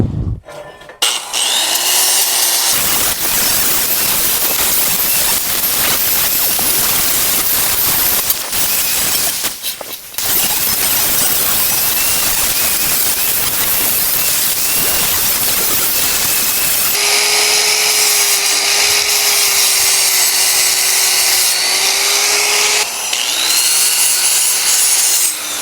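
Steel edges on a snowmobile groomer drag being cleaned up before welding, likely with a grinder: a loud, continuous abrasive grinding roar lasting the whole stretch, with brief dips and a shift to a higher whining tone near the end.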